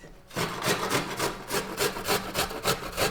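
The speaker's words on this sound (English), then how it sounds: "What we need to do is to grate some ginger." Fresh ginger is grated in quick, even back-and-forth scraping strokes, about four per second. The rasping is close and loud and continues without a break, with no talking over it.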